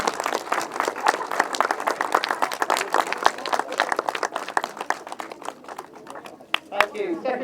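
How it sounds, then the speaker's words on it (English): Crowd applause at a youth grasstrack championship presentation, dense sharp claps coming in irregular bursts, fairly close and loud, with scattered individual claps standing out near the end. "give everybody that was racing today a massive round of applause"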